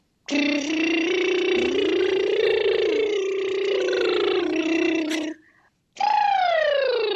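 A human voice imitates a siren, sustained humming tones sliding up and down continuously, then a short pause and one more descending wail.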